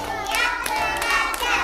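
Children clap their hands in short, sharp bursts on a counted rhythm, with bright claps over a classroom-like background and a voice mixed in.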